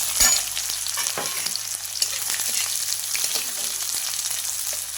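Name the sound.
onions frying with cardamom, cloves, cinnamon in oil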